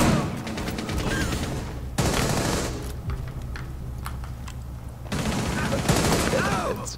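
Rapid gunfire in Rainbow Six Siege, loud bursts of shots coming in several clusters separated by brief quieter gaps.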